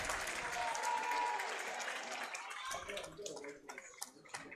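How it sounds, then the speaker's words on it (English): Crowd cheering and clapping at a WIAA Division 1 high school baseball sectional semifinal in Fond du Lac, a loud sustained roar of applause that gradually thins into scattered claps. "This crowd's ready to go bonkers here at Fond du Lac."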